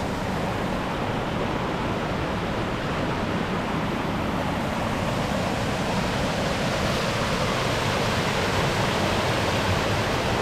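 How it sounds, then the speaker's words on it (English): Small waterfall beside the Rainbow Falls Trail in the Smoky Mountains, a steady close rush of falling water that holds even and loud throughout, with no voices. "And there's also a small waterfall to the right of it."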